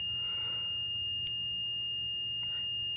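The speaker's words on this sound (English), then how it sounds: "the red light stays on and the system is beeping" A crane's load warning system gives a steady, piercing electronic warning tone continuously over a low mechanical hum, with a brief click partway through.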